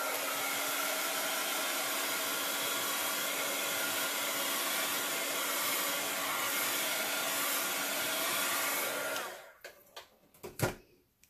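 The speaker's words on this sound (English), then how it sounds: "That was a heat gun that I was using on the gesso boards." A heat gun dries alcohol ink on a gesso board, blowing with a steady loud whirring roar for about nine seconds before cutting off, followed by a few quiet clicks and knocks.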